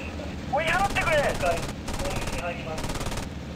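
Anti-aircraft fire in the flight sim IL-2 Sturmovik during a Japanese navy raid on Darwin: rapid rattling bursts over a steady engine drone, with someone talking over part of it.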